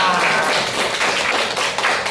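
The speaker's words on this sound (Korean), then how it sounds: "진심을 담은 박수" Loud, dense clapping from a small crowd at a grip-strength contest, a continuous close wash of claps filling the short stretch with no talk on top.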